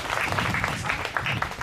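Children at a children's home in Mysore clap together in a quick, steady patter that lasts the whole short moment, close and fairly loud, with faint voices mixed in.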